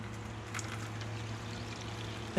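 Clear water pouring steadily out of a blown Ford Mustang 2V engine from a drift car, a continuous splashing stream close by with no talking.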